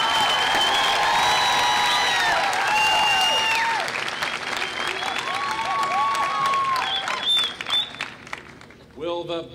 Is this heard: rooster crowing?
no